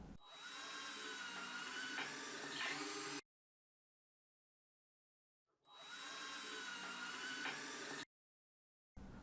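Power drill boring pilot holes for screws while building garden beds, two close high whining bursts of about three seconds each, separated by silence.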